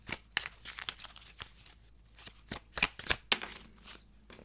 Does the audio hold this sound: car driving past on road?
no